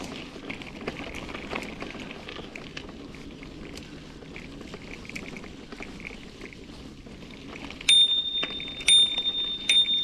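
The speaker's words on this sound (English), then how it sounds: "I instinctively rang the bell." A hand bell rings out a few bright, clear strikes near the end on a forest hiking trail in the Satsop Hills of the Olympic region, following quiet footsteps and rustling.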